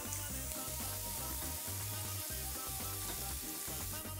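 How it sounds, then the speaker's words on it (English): Filet mignon steaks sizzling in a pan used for toasting English muffins, a steady bright crackling hiss that runs throughout, close and even, with a low rhythmic beat in the background and no talking. "In the same pan I used to toast my English muffins, I'm going to cook my steaks"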